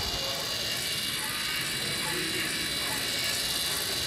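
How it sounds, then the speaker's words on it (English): Two LEGO Mindstorms motors run a spirograph, one turning the pen levers and one spinning the platform, giving a steady, continuous whirring drone that holds at an even level throughout. "Two motors, top motor spinning the levers, bottom motor spinning the platform"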